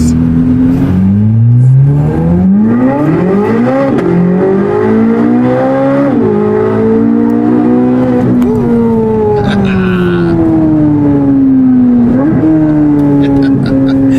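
A Chevrolet Corvette C8 Z06 fitted with a brand-new exhaust revs hard and loud up close, its engine pitch sweeping up and down through repeated climbs and drops over sustained throttle.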